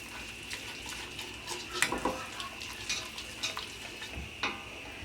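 Flour being stirred into a homemade white sauce in a pan for macaroni and cheese, giving a soft scraping and swishing with a few sharper clicks of the utensil against the pan, fairly quiet, no talk.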